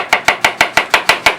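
A knife chopping onions on a board, eight crisp, evenly spaced chops in quick rhythm, close and clear with nothing else audible.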